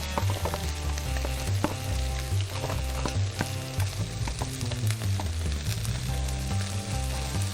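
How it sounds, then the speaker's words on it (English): Onions and carrots sizzle in bacon fat for a Southern cabbage medley, a steady close crackling fry dotted with small pops and clicks, with a low hum underneath. "We're going to drop our onions and carrots in there."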